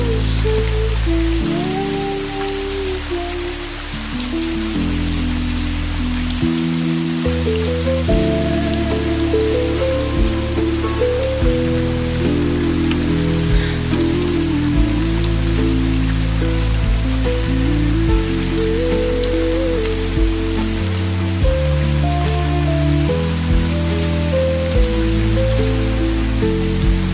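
Steady rain falls outside a seaside cafe on a stormy day, a dense continuous hiss of drops that runs throughout beneath soft, gentle music.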